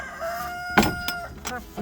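Hens cluck and squawk in short bursts over a steady background hum, fairly close and moderately loud.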